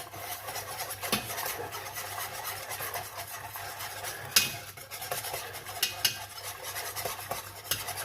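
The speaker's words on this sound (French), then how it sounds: "On va fouetter tout ça." A sauce being whisked with cornstarch in a pan, a continuous close scraping and rasping whisk with a steady rhythm, broken by occasional sharper clinks of metal against the pan.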